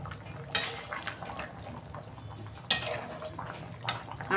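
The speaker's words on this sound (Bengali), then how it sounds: "দেখুন বন্ধুরা ঢাকনা খুলছি" A metal lid lifting off a pot of simmering mutton curry in a home kitchen, with two sharp clanks of metal on metal against a faint bubbling, sizzling background.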